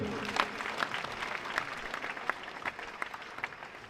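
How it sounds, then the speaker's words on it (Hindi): Villagers and students applaud Maniraj at a school gathering for a girls' handball competition, a fairly faint, steady patter of clapping with a few louder claps scattered through it. "एक बार सभी उपस्थित ग्रामीण सज्जन और विद्यार्थी मणिराज जी के लिए जोरदार तालियां बजाएं।"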